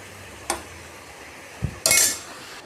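Soaked rice being mixed into frying tomatoes in a cooking pot: a few sharp metal utensil clinks and scrapes against the pot, with one longer scraping stir near the end, close by and without talk.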